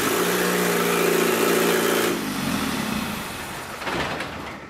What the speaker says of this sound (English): we'll just start it in first gear just to see the wheels spin